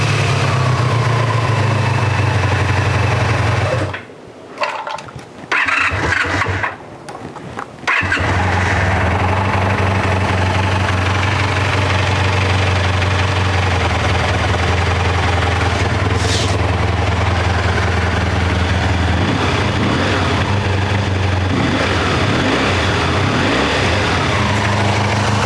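A 1984 Honda 500 Interceptor motorcycle engine after a carburetor revival, starting after a few brief cranking attempts and then settling into a steady, loud idle that runs on alone.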